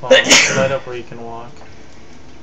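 A single short, loud sneeze right at the start, close and sharp, followed at once by quieter speech.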